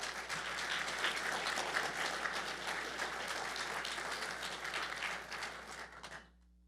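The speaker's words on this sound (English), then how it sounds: "So please give them a round of applause as well." An audience at an annual awards dinner applauds steadily for about six seconds, a dense, even wash of clapping that holds its level and then stops abruptly.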